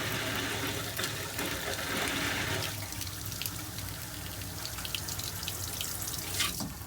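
Antifreeze rushes steadily through an RV's plumbing and out a faucet, a continuous hissing flow near the microphone that eases slightly partway through before surging again briefly at the end.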